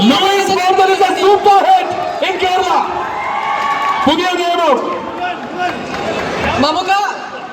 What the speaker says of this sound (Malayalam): അതിൽ ഒരിക്കൽ കൂടി ഒരു വലിയ കൈയടി.